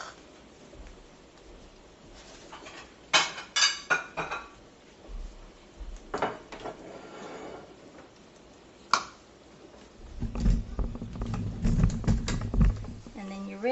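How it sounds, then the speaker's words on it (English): Pan shaken and whisk worked while a cheese omelet cooks in butter: scattered metallic clinks and scrapes, then a sustained rattling sizzle toward the end, close and moderately loud, with no talking. "Shake it around, use your whisk, and flip it."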